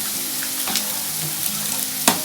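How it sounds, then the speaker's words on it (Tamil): Chopped banana flower sizzles and fries in a pan with softened onions for a poriyal, a steady close crackle with a few stirring clinks and no talking. "வாழைப்பூவையும் அப்படியோடு போட்டுடலாம்."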